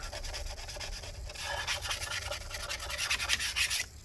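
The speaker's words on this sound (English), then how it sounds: "after you kind of get all the isopropyl alcohol on it, you can scrape it up a little bit more" Sticky adhesive residue left by a 2012 15-inch Retina MacBook Pro A1398 battery is scraped after soaking in isopropyl alcohol, a close, continuous rasping scrub that grows rougher and louder in quick strokes before stopping abruptly.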